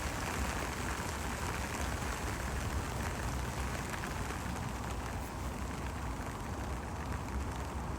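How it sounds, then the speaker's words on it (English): Rain falling steadily outdoors in the afternoon, a constant even hiss of drops with a faint low rumble beneath, no voices, unchanging for the whole stretch. "The rain's back now."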